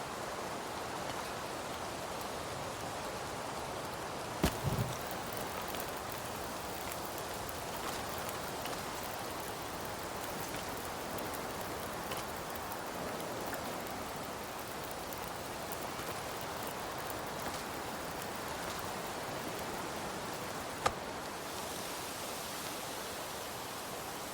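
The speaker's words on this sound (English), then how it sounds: "But with this level of wind, the wind will just blow the fire out." Steady howling wind in The Long Dark, a constant broad rushing hiss with no pause, faint and even throughout, broken only by a couple of brief clicks.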